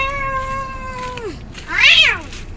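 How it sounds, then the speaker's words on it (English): Cats caterwaul nearby: one long wavering yowl slides downward, then a second, louder rising-and-falling wail follows, both drawn out and tonal against quiet background noise. "that might be a cat fight"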